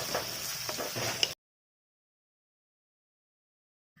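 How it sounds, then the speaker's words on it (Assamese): Green chillies and onion fry in a pan over a medium flame, a soft steady sizzle with faint clinks for just over a second before the sound cuts to silence. "এইখিনি অকণমান মিডিয়াম ফ্লেমত 3-4 মিনিটমান সময় ৰঙচুৱা পৰালৈকে ভাজি ল'ম।"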